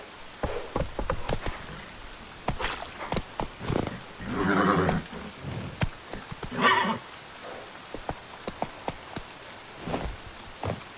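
Roach, the horse in The Witcher 3 video game, clip-clopping along through steady rain, with a loud whinny in the middle and another short call soon after.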